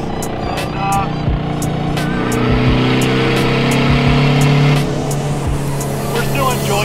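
A car running with its exhaust removed drones loudly and close, its engine pitch rising and falling as it revs and shifts while driving, with a voice talking over it in places.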